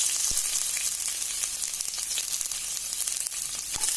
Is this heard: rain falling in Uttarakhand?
no